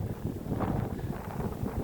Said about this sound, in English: We got a windy, snowy, blustery day.